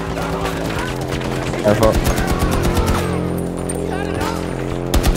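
A Battlefield 2042 teammate firing an automatic weapon in snowy combat, rapid close gunshots in quick bursts over a droning hum, with someone talking over the shooting.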